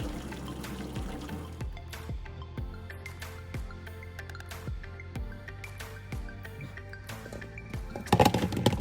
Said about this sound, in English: Now I'm going to drain the water off the potatoes so we can season them and roast them